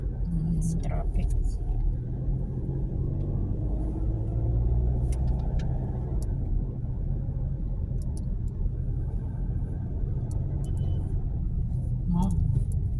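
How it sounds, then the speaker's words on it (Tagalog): Steady low rumble of slow road traffic from inside a car on a commute home from a hospital, engine drone constant beneath occasional talk. "Traffic yung papunta."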